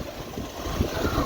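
A new motorbike's engine idling nearby, a steady, even rumble that holds for a moment with no talking.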